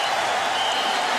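Texas fans at the Alamo Bowl college football game roar in a dense, steady wash of crowd noise and applause, loud and continuous with no break.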